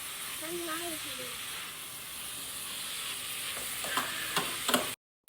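Onions frying in a pan for biryani give a steady broadband sizzle and hiss, with a few brief stirring clicks near the end and a voice heard faintly early on.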